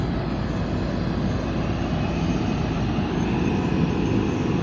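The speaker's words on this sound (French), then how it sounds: "au loin, on a l'aéroport de Charles de Gaulle. Donc les vols qui décollent." Airliners taking off from Charles de Gaulle airport make a loud, steady, broadband roar that continues without a break, heard from a distance at an air and space museum, with no voices.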